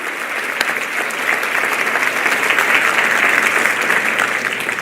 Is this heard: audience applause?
yes